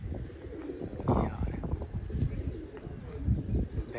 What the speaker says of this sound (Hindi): ये कबूतर आ रहा है दोबारा इसी साइड से होके